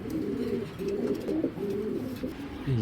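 Giribaz pigeons cooing close by in a repeated series of soft, low throaty coos, several calls in a row that overlap slightly, with faint background noise.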